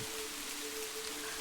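Heavy rain pours in a cartoon, a dense, even hiss of falling water that holds steady and close for the whole brief moment, with no voices.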